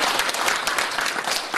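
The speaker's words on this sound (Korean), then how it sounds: "이렇게 격려해 주시러 오신 신양님께 다시 한번 큰 박수" Dense, steady applause from an assembled audience at a job-creation training school's closing session, loud and continuous with no talk over it.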